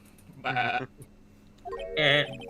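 A human voice imitates a sheep's bleat in a voice-over game dub, giving two drawn-out, wavering baa calls close to the microphone with a short pause between them.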